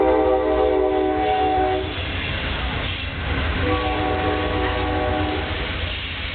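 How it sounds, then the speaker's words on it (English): An Amtrak passenger train rolls by close and loud, its horn sounding in long blasts over the steady rumble and rattle of the cars, heard during an outdoor cooking demonstration. "We're going to let that train go by."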